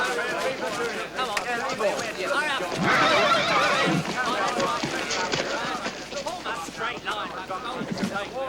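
A horse whinnies amid clip-clopping hooves in a 1984 George Washington period drama, with neighs rising over busy outdoor ambience and people talking throughout.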